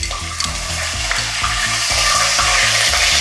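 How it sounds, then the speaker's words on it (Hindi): Cumin seeds and ginger-garlic paste sizzling in hot oil over a low flame, a steady close frying hiss broken by repeated stirring scrapes of a spoon against the pan. "2 मिनट इसको फ्राई करेंगे।"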